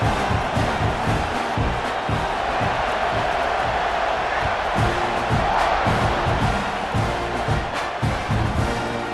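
Stadium crowd in the College Football 26 video game roaring and cheering, a loud, dense wall of noise that stays constant throughout with faint shouts rising within it.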